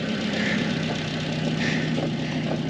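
An old tractor engine idles steadily outdoors on a cold day of firewood processing, a loud, even, rumbling drone with a faint rhythmic knock, heard up close with no talking.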